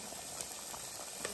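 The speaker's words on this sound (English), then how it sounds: "veggies are boiling" Vegetables boil in a pot at an outdoor farm meal in Hargeisa, Somaliland, giving a steady soft bubbling hiss with a few faint pops, close and quiet, with no talking.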